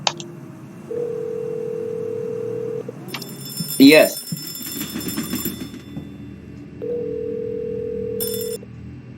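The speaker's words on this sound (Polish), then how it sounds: "Patrzcie, mamy tutaj telefon." Steady telephone dial tone from a video game, heard twice as long sustained stretches with a short burst of ringing between them, under Polish speech.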